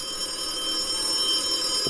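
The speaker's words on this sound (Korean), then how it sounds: "전화가 또 울리고" A telephone rings in a horror video game. The electronic ring is steady and continuous and holds at an even level for the whole moment, with no voices over it.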